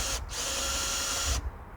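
A power drill whirs steadily as it drives screws into wood outdoors in an allotment garden during winter work, a continuous high buzzing that stops abruptly near the end.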